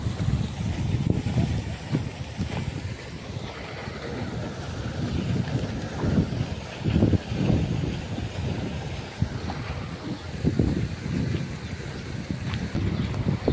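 Steady wind rushes through a park in Israel with trees and fountains, a constant, fluttering roar buffeting the microphone, with no voices.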